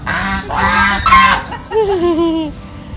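Loud, close geese honking on an egg-laying duck farm, several harsh nasal calls in quick succession followed by a longer wavering honk.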